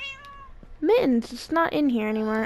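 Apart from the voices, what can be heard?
cat meowing in Minecraft video game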